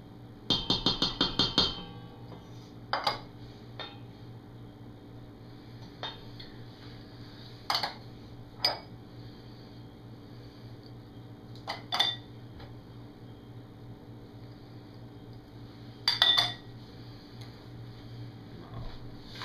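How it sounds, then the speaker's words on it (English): Dry ingredients being stirred into zucchini bread batter: a quick run of utensil clinks against a bowl, followed by scattered single taps and clatters over a quiet kitchen background. "Now stir into your batter your dry ingredients."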